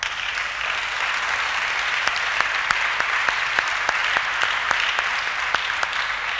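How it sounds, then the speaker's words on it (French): A church congregation claps steadily to acclaim the Lord, a dense, even applause with sharp individual claps popping out of the wash, sustained throughout at moderate distance. "Acclamons notre Seigneur"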